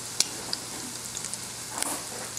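Crab-less cake patties sizzling quietly in a pan, a soft steady hiss of frying broken by a few sharp crackles and pops.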